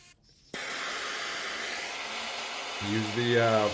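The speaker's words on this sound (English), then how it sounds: "Use the blowtorch to put some burn marks there" A steady, roaring hiss of a blowtorch flame scorching burn marks into wood starts abruptly and holds, with a rising tonal whine toward the end.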